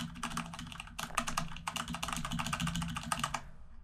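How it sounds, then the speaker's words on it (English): Rapid mechanical keyboard clicks rattle in a quick, uneven typing burst, picked up close by a desk microphone with a low background hum, then stop near the end. "if I set it to about -15, I can still actually pick up my keyboard clicks"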